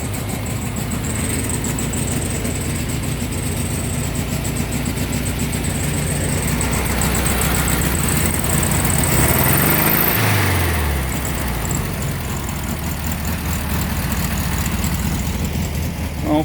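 A 1963 VW Beetle's air-cooled engine running at a steady idle close by, a continuous buzzing putter with a brief swell in revs partway through, no talk.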